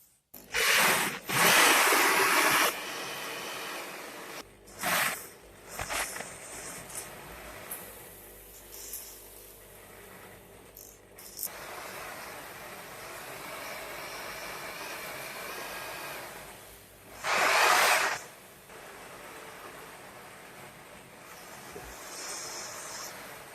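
A grain mill crushes malted wheat and barley with a steady, hissing grind, and louder surges of grinding rise at the start and again near the end.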